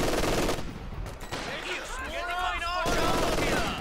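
Machine gun fire from a Company of Heroes 2 battle, loud dense bursts at the start and end with a quieter stretch between, mixed with other battlefield noise and a voice.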